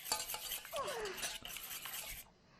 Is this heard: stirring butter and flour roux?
yes